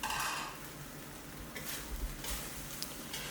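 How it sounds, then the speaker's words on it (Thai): Fried catfish pieces are stir-fried with curry paste in a pan over high heat, giving a quiet sizzle with scattered utensil scrapes and light clinks, heard faintly and close without talk. "ผมจะนำปลาดุกที่เราทอดเอาไว้ ลงมาผัดคลุกเคล้ากับซอสพริกแกงตัวนี้ได้เลยครับ"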